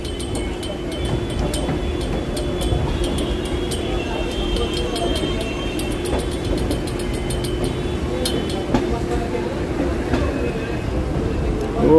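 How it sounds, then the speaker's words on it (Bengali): A local train rolls across the tracks in a continuous low rumble with faint rhythmic ticking and clicks of wheels over rail joints, heard steadily from close by. "ট্রেন আমাদের লাইন ক্রস করছে"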